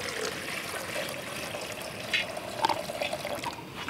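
Water being poured into a pot at a fall campsite, a soft steady trickling and splashing that swells briefly with a few bubbling gurgles near the end, close and moderately quiet.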